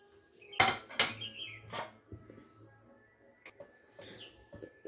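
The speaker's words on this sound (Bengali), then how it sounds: "প্রথমে আলুগুলোকে ম্যাশ করে নেব একটু" Boiled potatoes are mashed in a bowl, with sharp clinks and scrapes of a utensil against the dish, several distinct knocks early and then softer intermittent scraping.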